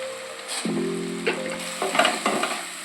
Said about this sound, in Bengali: ভালো করে এটা কষিয়ে নেব